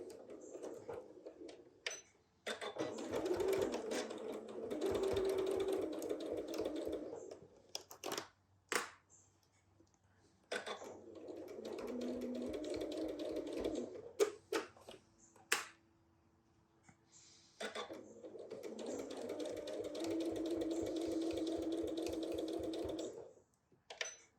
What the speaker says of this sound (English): So now I'm going to sew. Sewing on the outside.